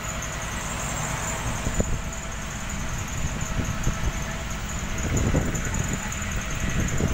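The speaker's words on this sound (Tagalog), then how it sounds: "Nakasakay pa tayo ng jeep." Steady engine rumble and road noise fill the cabin of a jeepney riding from Makati to Mandaluyong, with a faint rattle and a few soft knocks throughout and no voices.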